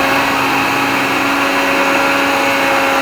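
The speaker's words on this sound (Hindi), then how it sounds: "पहले मैं इसको थोड़ा सा ब्लेंड करूँगी, फिर अगेन ब्लेंड करूँगी, ताकि अच्छी तरह ये ब्लेंड हो जाए," An electric blender whirs continuously while blending a homemade orange peel cream, a loud steady motor whine with a constant pitch and no pauses.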